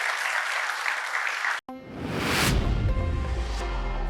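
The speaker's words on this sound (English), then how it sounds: "Again, a warm round of applause." A tech conference audience applauds after a talk, a steady roar of clapping that breaks off abruptly and gives way to a different sound with a rising swell.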